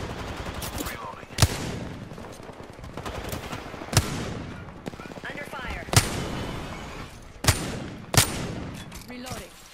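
Gunfire in the Apex Legends battle royale game, with sharp single shots cracking about every two seconds over a busy background of rattling automatic fire, and in-game voices under the shooting.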